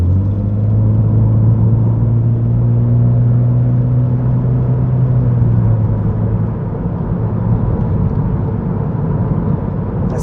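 A Honda Civic with VTEC accelerates onto a freeway, its engine rumbling loud and close with a rising then steady drone over road noise, no voices.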